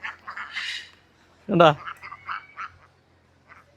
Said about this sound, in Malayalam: ഇതാണ് നമ്മുടെ താറാവെല്ലാം വന്നിട്ടുണ്ടേ